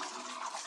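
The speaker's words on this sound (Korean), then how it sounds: "호수와 손은 이제 따라가면서 깨끗하게 헹궈주시는 게 포인트입니다." Water from a salon shower hose rinsing hair during a shampoo, a steady close hiss of spray with no voices.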